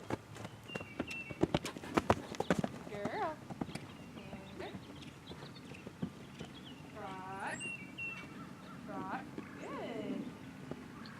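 Hooves of a rescue horse in a round pen make irregular thuds and clops, loudest at the start, while a person talks over much of it. A few high, whinny-like tones come through in the second half.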